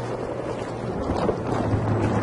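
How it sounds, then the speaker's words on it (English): A vehicle engine in Battlefield 3 gameplay hums as a low, steady drone with a constant tone, mixed with whooshing wind-like noise and no talking. "Alright, I can hear your engine."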